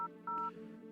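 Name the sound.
telephone keypad dialing in a horror video game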